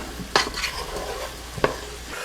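Butter sizzles in a pot over softened onions for New England clam chowder, a constant frying hiss with two sharp clinks of a utensil against the pot, no voices.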